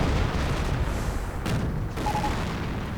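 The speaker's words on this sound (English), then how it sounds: "And now Howitzer artillery moves in." Howitzer artillery fire in a video game: a dense, continuous roar of booms and rumbling blasts stays loud throughout, with a slightly sharper impact near the middle.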